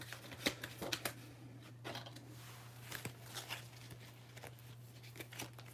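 Tarot cards are shuffled and drawn in a series of soft, quick riffling bursts and slaps, close and quiet over a low steady hum, with irregular pauses between handfuls.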